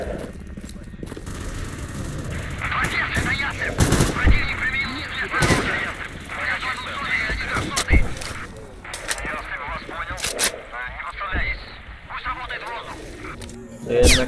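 Gunfire in the game Stalker Radiophobia 3, with sharp bursts and single shots cracking repeatedly at close range under steady talking and mixed game noise.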